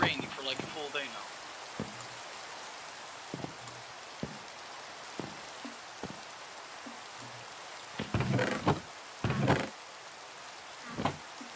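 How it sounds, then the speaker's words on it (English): Continuous rain in Minecraft, a low even patter running throughout beneath scattered in-game clicks, footsteps and a few louder bursts of game sounds. "It's been raining for like a full day now."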